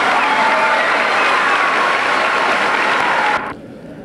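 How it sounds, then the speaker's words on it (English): Dense, steady applause from a large audience at a 1996 high school commencement ceremony, loud and sustained before cutting off abruptly near the end to a quiet room. "Please give them a round of applause."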